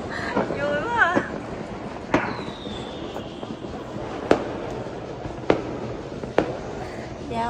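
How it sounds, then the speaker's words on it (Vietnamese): New Year's Eve fireworks burst over a city, several sharp distant bangs and crackles spaced a second or so apart, with whistling rockets and a low background rumble; people talk briefly early on. "Giao thừa cả thành phố bắn pháo hoa luôn cả nhà ơi."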